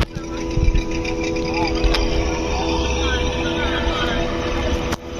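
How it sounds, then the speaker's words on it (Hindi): A motorboat engine drones and idles steadily on a dam lake at Latratu Dam in Khunti, Jharkhand, fairly close and loud for a few seconds, with a brief crackle near the end. "बोटिंग वाला आवाज़ आपको सुनाई दे रहा होगा।"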